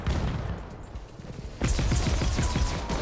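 Gunfire in the PvPvE video game Hawked: a dense, loud burst of rapid shots starts after a quieter opening and continues as a steady rattling volley.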